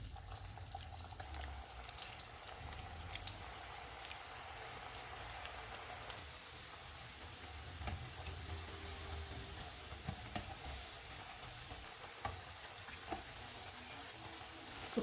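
Pakoras fry in hot oil over a medium flame with a steady, faint sizzle and crackle, continuous and bubbling with small pops throughout.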